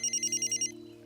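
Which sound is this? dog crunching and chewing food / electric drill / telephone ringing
telephone ringing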